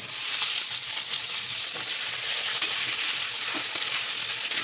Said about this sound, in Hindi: अब इसमें डालेंगे हम गाजर।